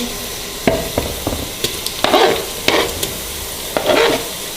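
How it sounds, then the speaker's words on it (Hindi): Onions sizzle in hot oil, frying toward light golden brown, while a spoon stirs and scrapes the pan with intermittent clacks, close and fairly loud. "मैंने प्याज़ों को ऑयल के अंदर डाल दिया है। इसको लाइट सा गोल्डन ब्राउन होने तक इसको फ्राई करते हैं"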